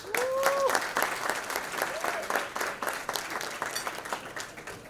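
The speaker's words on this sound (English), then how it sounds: "Let's give them a round of applause." A gala crowd applauds board members, a burst of clapping with some cheers and whoops at the start, then settling into scattered, gradually thinning claps.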